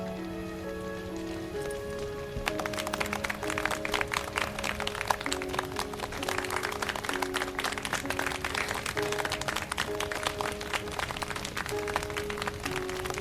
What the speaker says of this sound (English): It sounds like they're clapping in a room, like with a microphone set up, like a sound booth, maybe?